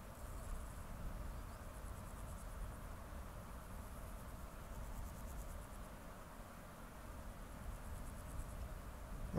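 Crickets chirp outdoors at night in faint, pulsing high trills that come and go over a soft, steady ambient hiss, distant and quiet, with no voices.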